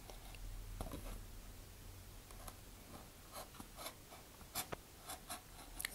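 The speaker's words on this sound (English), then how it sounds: "So start with a hot, sharp hobby knife." A hot, sharp hobby knife cuts into a thick tube for a Terrier Sandhawk model rocket build, making faint, close scratchy strokes with a few sharp little clicks.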